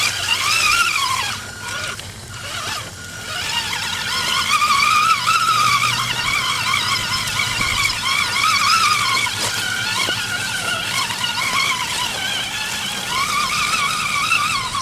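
An Axial AX10 RC crawler drives over snowy leaves, its small electric motor whining steadily for the whole stretch with soft crunching and rustling underneath, close by and fairly loud, with no talk.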